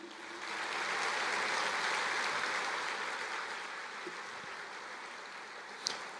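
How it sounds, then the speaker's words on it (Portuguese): Congregation clapping during a church service, a broad wash of applause swelling quickly, holding, then slowly thinning out, with a faint voice and a sharp tap near the end. "Aplauda ao Senhor."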